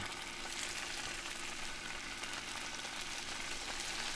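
A hot skillet readied for walleye fillets gives off a steady, close, even sizzle and crackle that holds at constant loudness throughout, with no voices.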